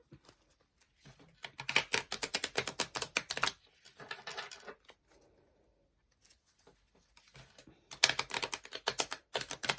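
Tarot cards are shuffled in quick riffling bursts of crisp, rapid flicks, close and quiet, with pauses of near silence between rounds and no talk.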